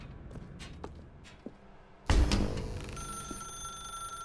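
In The Stanley Parable video game, faint footsteps tap in a quiet room before a telephone bursts into a loud ringing that carries on with a steady tonal jangle.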